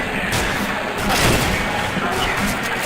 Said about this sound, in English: Point blank headshot from Neo with that Mag 7